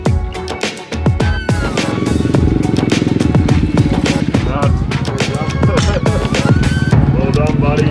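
KTM motorcycles race at the Finke desert race. Engines roar loud and close with rapid, pulsing revs that rise and fall in pitch over a rattling, continuous rumble.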